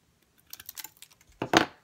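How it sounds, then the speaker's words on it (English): Network cable wire ends snipped off straight while terminating a Cat5 or Cat6 cable, heard as a few light close clicks and then one sharper, louder snip near the end. "And I'm going to cut them off straight."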